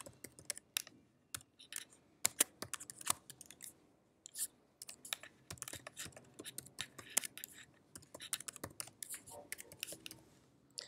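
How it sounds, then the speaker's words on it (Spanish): Computer keyboard typing as an email address and password are entered to log in, a quick irregular run of light clicky keystrokes with short pauses, close and fairly quiet. "vamos a ingresar nuestro correo y la contraseña con la cual nos registramos"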